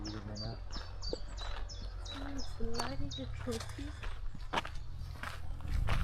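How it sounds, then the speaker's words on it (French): Small birds chirp and tweet in repeated short calls outdoors in sunshine, moderately close, over a steady low background rumble with some footstep-like clicks. "Est-ce qu'on entend les oiseaux par exemple?"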